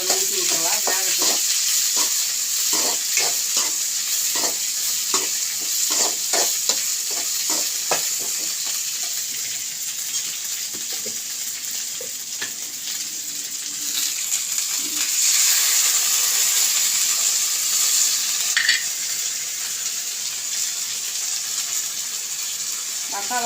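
Okra sautéing lightly in a pan, a steady close sizzle with frequent clattering scrapes of stirring in the first half, easing into a smoother hiss later.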